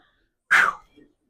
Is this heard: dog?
yes